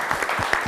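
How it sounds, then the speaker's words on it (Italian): Audience applause at an Italian evening variety show, a brief steady burst of clapping from a crowd, close and fairly loud throughout. "Facciamo un applauso"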